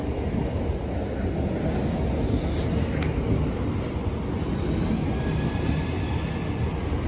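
An electric passenger train departs a station platform, rumbling steadily along the rails, with constant low-frequency noise and a faint brief squeal, and no talking.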